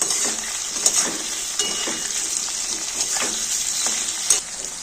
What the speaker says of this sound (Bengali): একসাথে ভাজতে থাকবে চিংড়ি মাছ আর আলুটাকে।